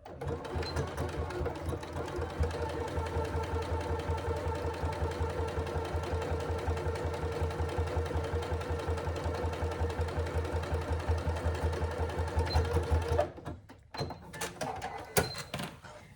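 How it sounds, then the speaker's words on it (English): Steady, close whirring of a sewing machine topstitching along a handbag pocket to close a gap, running continuously for about thirteen seconds before stopping, followed by a few soft handling knocks. "now I'm going to just close that gap by top stitching all the way along"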